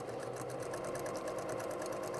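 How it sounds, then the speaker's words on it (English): A sewing machine stitches a quarter-inch seam on a patchwork infinity scarf, running at a slow, even pace with a steady rhythmic whirring clatter, faint and unbroken. "I'm gonna take a nice slow stitch."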